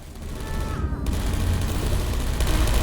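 Automated turrets in the puzzle game Portal Reloaded fire a loud, continuous rattling burst of gunfire that holds steady for nearly three seconds with no pause.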